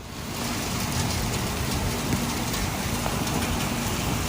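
Heavy rain pours steadily at Clark Atlanta University in Atlanta during flash flooding, a dense, constant hiss without pause.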